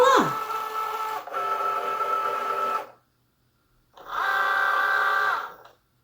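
A Cricut Joy cutting machine detects a slid-in mat and loads it, giving two bursts of whirring motor hum with a short pause between, close and moderately loud with no voices.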